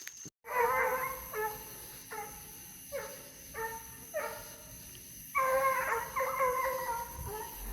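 Redbone coonhounds baying on the trail of a raccoon released from a trap, a series of long howling bays in separate bursts, some overlapping, at moderate distance with no talking.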